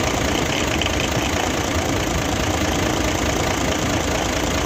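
A diesel engine with heavy back compression blowby idles steadily, a dense continuous rumble with a rough, knocking texture close to the source and no talk.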